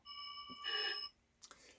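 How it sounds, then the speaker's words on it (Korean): A telephone bell rings in a scene from the 1957 Billy Wilder courtroom film Witness for the Prosecution. A short, faint electric ring is heard, followed by a quieter click. "그때 전화벨이 울립니다"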